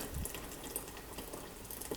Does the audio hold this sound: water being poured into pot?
yes